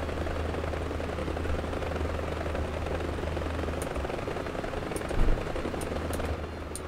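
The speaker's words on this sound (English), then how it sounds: "Okay, that is how you land a helicopter." A helicopter in the War Thunder combat game holds a steady low engine and rotor drone throughout, close and continuous, with a brief louder thump near the end and a few faint high clicks.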